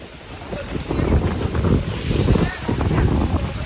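Strong wind during the first monsoon rain on an outdoor film set roars and buffets the microphone in a steady, heavy rush, with muffled voices faintly underneath.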